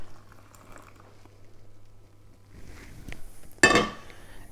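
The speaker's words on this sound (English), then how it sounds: "So we just pour this into the jug" Panna cotta mixture is poured into a jug as a soft, quiet liquid trickle, ending in a sudden brighter splash or clink near the finish.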